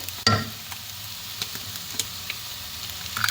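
Beaten egg sizzling in a hot pan while bread kottu is cooked, a steady soft frying hiss with a few light scrapes and taps of a utensil stirring, close up and without talk.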